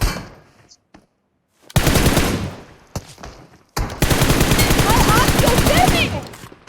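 Automatic gunfire in PUBG Mobile, several long bursts of rapid shots separated by brief silences, loud and close, with a few single shots between bursts and a voice talking at points.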